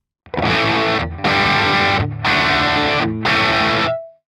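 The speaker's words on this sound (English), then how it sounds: "you might have an amplifier that you've set with the gain quite high, so it's set up for distortion" Heavily distorted electric guitar through an amplifier plays four loud sustained chords, each cut off by brief silence, with a short ringing note at the end.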